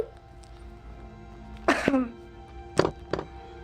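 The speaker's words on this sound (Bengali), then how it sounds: "আমার একটু কাশি হয়েছে" A few throaty coughs, one harsh burst followed by two shorter ones, close up against a quiet background hum.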